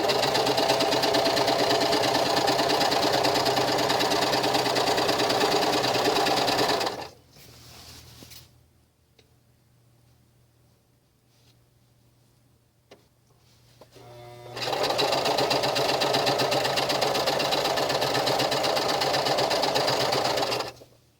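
A sewing machine stitches the last panel of a sewn piece, running loud and steady close up, then stopping for several seconds of near silence before starting again and running steadily to the end.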